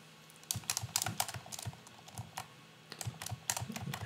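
Keys clatter on a computer keyboard in short, quick bursts with brief pauses between them, close and fairly quiet, as a password is typed at a desk.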